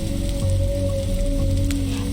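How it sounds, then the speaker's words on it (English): Steady rain pours continuously in a dark detective point-and-click game scene, a dense even hiss with a low drone underneath and no talking. "whenever standing in this rain stops being fun for you"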